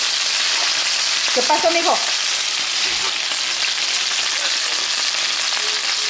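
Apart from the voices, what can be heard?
chicken legs frying in oil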